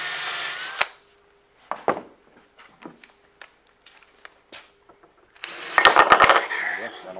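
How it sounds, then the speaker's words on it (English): A power drill pre-drills a small hole in wood in several short, close bursts, with brief quiet gaps and small handling clicks between them, ending in a louder whirring run. "I'll just pre-drill to make it easy on myself."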